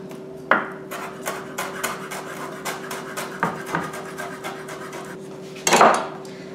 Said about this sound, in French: je vais commencer par couper la coriandre